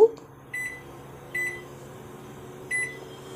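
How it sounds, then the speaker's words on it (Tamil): A microwave oven hums steadily while cooking banana halwa made from nenthra pazham, with three short electronic beeps spaced about a second apart over the constant drone. "மைக்ரோ ஓவன் உள்ளுக்கு வைக்கிறோம்."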